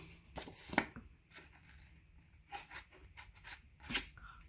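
Scissors snip through paper while a scrapbook pocket is made, giving a few short, crisp cuts spread across the moment at close range with no talking.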